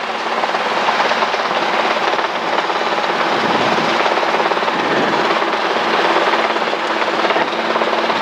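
A Robinson R22 helicopter hovers on approach, its steady rotor and engine drone loud and continuous with a fast rhythmic chop, heard up close from inside the cabin.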